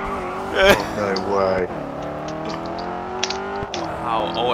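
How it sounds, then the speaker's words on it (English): Car engine in the Grid 2 racing video game revving and sliding through a hairpin under a handbrake turn, with brief tire noise, heard beneath excited talk throughout. "Handbrake now."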